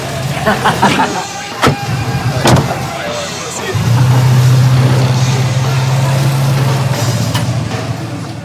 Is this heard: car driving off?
yes